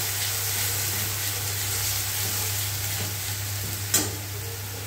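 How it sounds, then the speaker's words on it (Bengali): Bombay duck and chopped onion fry in a pan, giving an even, close sizzle over a low hum with one short stirring clatter near the end; no talking. "এটাকে আমি ভালো করে ভাজা ভাজা করে নেব 2-3 মিনিট।"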